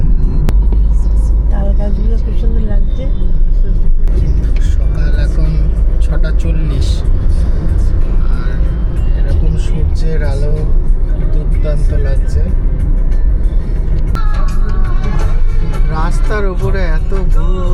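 Steady engine drone and road rumble of a car cruising at a constant 80 on a highway, with someone talking over it throughout.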